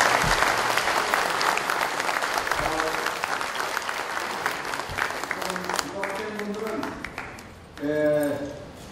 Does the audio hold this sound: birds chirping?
no